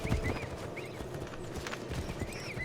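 Galloping horse hooves in Assassin's Creed 3 as a stolen horse rides away from Fort Independence, a steady rhythmic clip-clop thudding close by over a busy game soundscape, with no speech.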